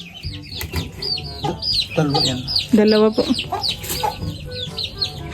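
Native laying hens cluck steadily and nearby, with chirpy calls running through the whole stretch while a man and another person speak briefly over them.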